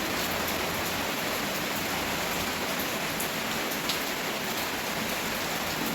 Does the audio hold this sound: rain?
yes